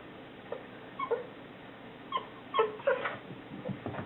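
A chihuahua puppy gives several short, high whimpers and yips in quick bursts, close by and fairly quiet against a low background hum.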